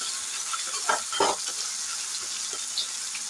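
Pirandai (adamant creeper) frying in hot oil until brown, a dense continuous sizzle with a few louder bursts of spattering and stirring scrapes near the start, no talk.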